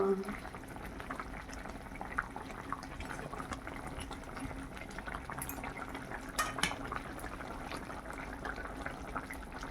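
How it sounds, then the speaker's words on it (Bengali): Mustard-oil fish curry (macher tel jhal) bubbling in a pan, a steady soft simmer with faint clinks of utensils and quiet talk in the background. "মাছের তেল ঝালটা প্রায় হয়ে এসছে, আর একটুক্ষণ ফুটে যাক"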